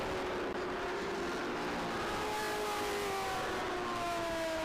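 Race cars in a Trans Am Series road race at Road Atlanta accelerate together on a green-flag restart, a sustained engine drone with rising pitches from several cars, steady and moderately distant, with no talk.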